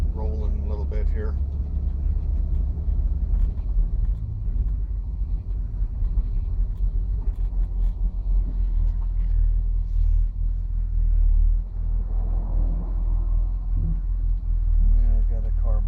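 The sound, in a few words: 1965 Impala engine pulling out and driving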